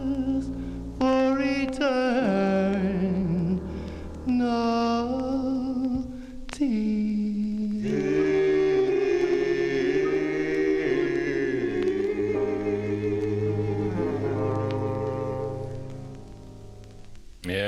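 A 1956 vocal-group record plays as harmonised singing over band backing, steady and full before fading toward the end.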